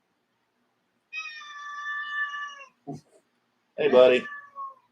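A shop cat meows in drawn-out, wavering cries close by, followed by a short sound and a person speaking briefly, with a final short meow at the end.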